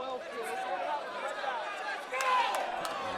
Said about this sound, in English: Crowd getting a little fired up,